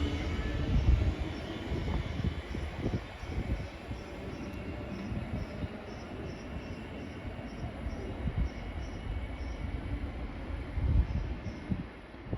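A Melbourne suburban train passes through St Albans station, a steady broadband rumble of wheels on track running throughout with faint repeated clicks and squeal overhead, fairly distant and without talk.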